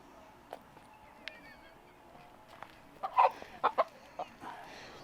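A homestead chicken wearing a harness gives a few short, fairly quiet clucks and squawks, bunched mostly in the middle over a low background.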